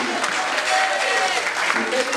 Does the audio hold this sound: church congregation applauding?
yes